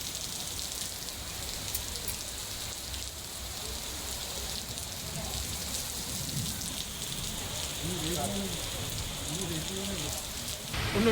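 Heavy rain in Hyderabad makes a steady, moderate hiss of falling water throughout, with faint indistinct murmurs or background sounds beneath it.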